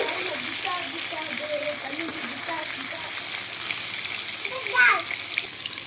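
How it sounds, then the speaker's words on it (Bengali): Catla fish fries in hot oil with a loud, continuous sizzle, a faint voice murmuring underneath and a brief burst of crackling near the end. "লাল লাল করে ভেজে নেব মাছটা"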